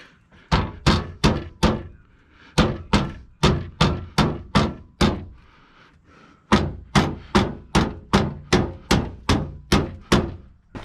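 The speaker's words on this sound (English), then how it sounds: "And we tap these down." Fender clips on a 2011 Nissan Rogue are tapped down into place, a long run of sharp, evenly spaced knocks in two bursts separated by a short pause, loud and close, with no talking.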